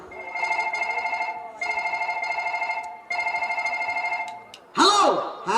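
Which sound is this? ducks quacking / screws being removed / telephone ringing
telephone ringing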